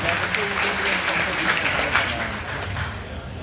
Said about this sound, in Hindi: एक जोरदार ताली चाहिए एसलीपीएस वेलनेस के लिए